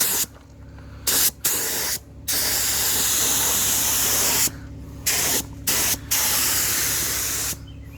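Heavy coat of primer sprayed from a spray gun onto a Dodge D100 Sweptline dash, steady loud hissing bursts broken by several short pauses between passes.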